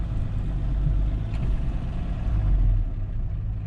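A station wagon with a cracked cylinder head idles close by, giving a steady, low, rumbling drone that holds an even level throughout with no voices over it.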